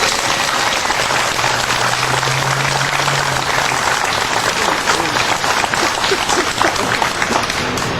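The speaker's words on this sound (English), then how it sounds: "Give him a round of applause, please." Loud, dense applause rolls on without pause from a rally audience welcoming a speaker, a broad wash of many hands clapping close by.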